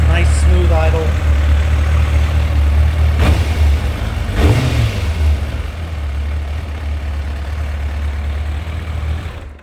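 A 1994 Kawasaki ZX9 motorcycle engine idles steadily and smoothly at close range, a continuous low rumble with a brief blip partway through, while a person talks over it.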